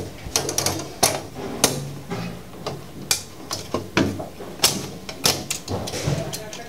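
An aluminum alloy ceiling access panel being handled and shut, giving a run of sharp metallic clicks, taps and thuds in an irregular rhythm, close and fairly loud.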